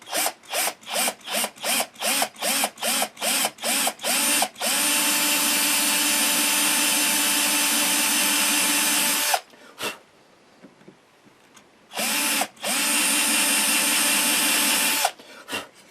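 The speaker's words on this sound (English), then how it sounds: "So just try and keep the drill as straight as you can and just go down ever so slightly." A handheld power drill whirs in short bursts, then runs steadily, pauses, and runs again, loud and close as it bores a shallow inlay hole into a guitar's wood.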